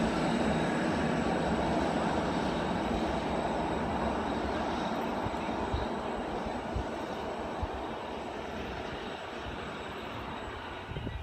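A train passes through Menangle station platform in regional New South Wales, a loud, sustained broadband roar and rumble that stays steady for the whole stretch with only slight easing toward the end.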